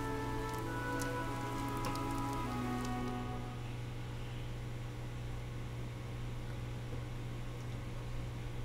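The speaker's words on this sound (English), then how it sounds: "This rain threatens a coming storm." Steady rain falling in the video game Fire Emblem Three Houses, a continuous wash of patter alone throughout, with a few brighter drips and a low background tone early on.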